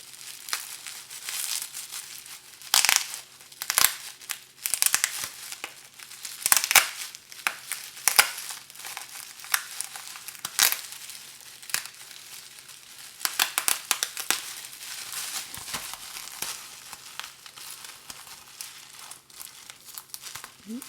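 Crinkly plastic packaging of a Miccilo foundation trio set is crushed, crumpled and torn open by hand, a close, continuous run of dense rustling bursts with no talk.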